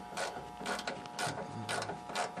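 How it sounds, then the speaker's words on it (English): A ratchet wrench clicks in repeated short bursts while a 10mm head bolt is worked loose from the tray holding the modules in a 2008 GMC truck, quiet and close with no talk. "I'm just taking off the first bolt for the tray that holds these modules in place."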